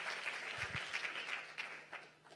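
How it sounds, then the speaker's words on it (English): Faint audience applause at a community resilience summit plenary, a soft steady patter of clapping from a seated crowd, heard at a distance for a couple of seconds. "Let's give another round of applause for Dr. Erica and Desiree."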